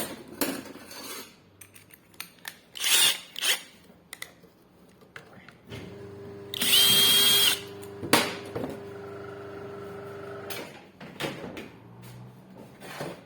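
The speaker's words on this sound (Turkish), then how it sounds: "makinamızı şöyle çevirdikten sonra matkap takalım" Metal tools clatter and clank, then an electric drill motor whirs steadily for several seconds with a sharp high whine before more clattering, during crankshaft and piston-cylinder work on a Chinese-made chainsaw.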